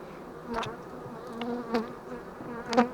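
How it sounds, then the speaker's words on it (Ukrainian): Honeybees buzzing around a hive in an apiary, a soft continuous hum with a few louder passes as single bees fly close to the microphone. "І аж сьогодні я зміг прийти до цих бджіл."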